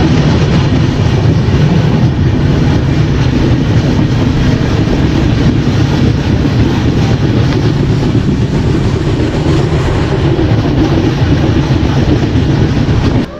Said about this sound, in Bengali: আমাদের ট্রেন এসে পৌঁছালো তমলুক